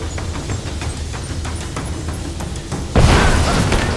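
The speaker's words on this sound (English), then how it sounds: "Thermites through. Set the charge. Light it!" Thermite charge in the game Rise of the Tomb Raider, a rumble of clicks and impacts suddenly giving way near the end to a loud, sustained booming blast.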